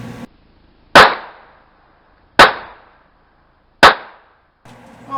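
Three sharp, loud shots from a Taurus TX22 .22 LR pistol fired outdoors, spaced about a second and a half apart, each with a short ringing decay and no talking.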